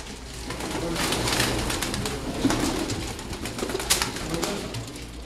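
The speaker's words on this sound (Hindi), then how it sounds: "बहुत आला कबूतर है" Soft cooing from high-flying pigeons amid a busy background of rustling and shuffling, with low murmurs throughout; the calls are moderate and close.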